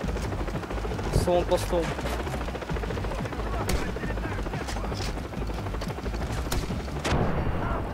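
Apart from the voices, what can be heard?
helicopter and gunfire in video game Far Cry 3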